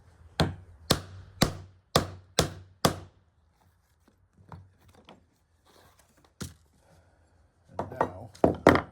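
Six sharp, evenly spaced thumps of a leather punch driven through a 2-inch leather belt, close and loud, followed by a quiet pause, one more strike and a few scattered knocks.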